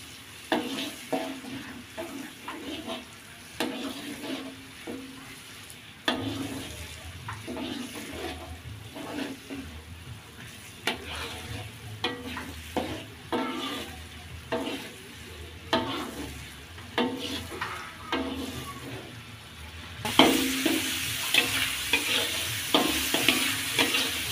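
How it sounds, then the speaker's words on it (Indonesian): Spice paste with bay leaves, lime leaves, lemongrass, cloves and cinnamon sautés in oil, giving a sizzling hiss broken by repeated scraping stir strokes, and the sizzle surges louder toward the end. "Tumis sampai bumbunya matang ya."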